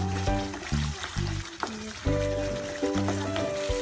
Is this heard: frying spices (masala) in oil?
yes